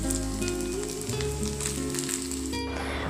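Leftover rice mixture frying in hot oil gives a steady, close, loud sizzle that holds unbroken throughout, with no voices over it.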